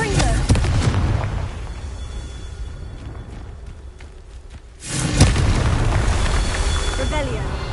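Confringo fire spell in the game Hogwarts Legacy goes off with a loud, sudden explosive boom after a quieter stretch, followed by crackling debris and rumble, with some talk in the background.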